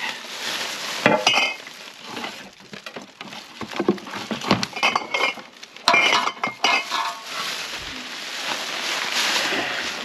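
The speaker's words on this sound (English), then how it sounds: "Every bottle of wine she ever drank." Glass wine bottles clink and knock together in a cluttered storage unit, irregular bursts of chinking and rattling with rummaging noises in between, fairly close and moderately loud.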